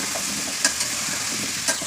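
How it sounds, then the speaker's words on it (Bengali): Olive pickle frying in a pan is stirred continuously, producing a steady close sizzle punctuated by a few sharp scrapes of the spoon against the pan. "অনবরত নেড়ে যাবেন।"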